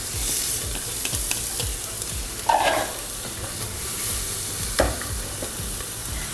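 Bell pepper, leek and celery sizzle in a pan for a braise while being stirred, a continuous fry with scraping thumps of the utensil close up and no voices.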